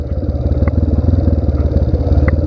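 A dirt bike engine-braking downhill in first gear on a steep trail, its motor a steady, close low rumble with a rapid pulsing throb and light mechanical clatter, no talk.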